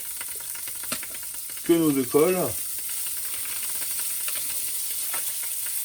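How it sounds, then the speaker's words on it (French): Butter sizzles in a hot frying pan before omelette eggs go in, a steady crackling hiss that runs the whole time under a brief stretch of French talk. "Et ça crépite."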